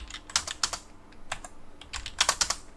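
Computer keyboard typing during AutoCAD 3D work, a few quick bursts of crisp key clicks ending in firmer presses like an Enter key, close and dry with short pauses between bursts.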